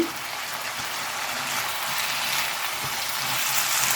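Ridge gourd peel fries in a pan, a dense, steady hiss of sizzling oil that holds evenly throughout, close and without voices.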